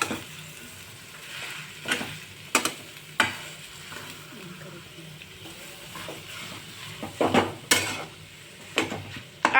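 Mashed boiled potato sandwich filling stirred in a pan with a spoon, giving repeated scraping and knocking strikes at an uneven pace against a faint background sizzle, close and moderately loud, with no voices.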